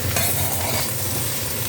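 Curry leaves, ginger, tamarind and red chillies sauté in a pan for thuvaiyal, giving a steady, close sizzle with soft stirring throughout and no voices.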